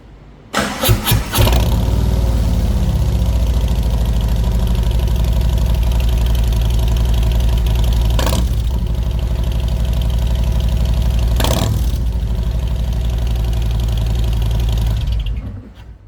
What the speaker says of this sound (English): here's a quick startup with the before, which is the Rinehart DBX40, which are 4-inch pipes